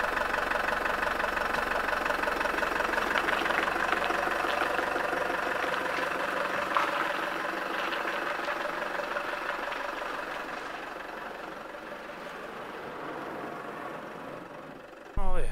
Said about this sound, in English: I set you here so you can hear the French diesel purring.